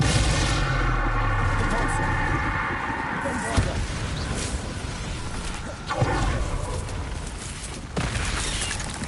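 Bombarda spell blasts boom in Hogwarts Legacy on PS5 amid dense, loud combat noise, with heavy impacts landing around every two seconds and a voice talking over the fight.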